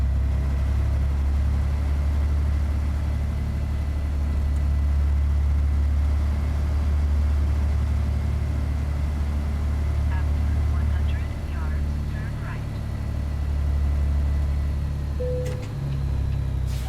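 The 12.7 liter truck engine of a Ruda 389 in American Truck Simulator runs with a steady, deep, low hum throughout, with a voice talking over it.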